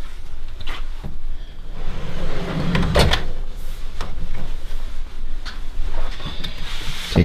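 Lower drawer of a secret bookcase sliding open, a woody rumbling slide with a few knocks and a clunk near the middle, close and fairly loud over steady room noise.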